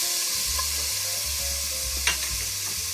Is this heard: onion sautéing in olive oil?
yes